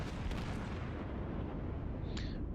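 Main guns of the battleship Fuso firing HE shells in a naval video game, a dense, continuous heavy rumble of booming fire with a brief bright whistle near the end.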